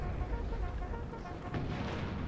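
Musket volleys and artillery booms from Napoleon Total War crackle and thud in a dense battle din, with a sharper report near the middle and no voices.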